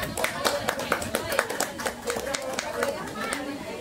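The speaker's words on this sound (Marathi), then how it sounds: "जोरदार टाळ्या होतात." An audience applauds at a community award ceremony in Mumbai honouring sanitation workers, giving a steady patter of many hands clapping with crowd chatter mixed throughout.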